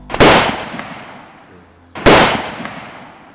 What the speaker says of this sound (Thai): ปืนดีนะ แต่เสียงมันเงียบๆฮะ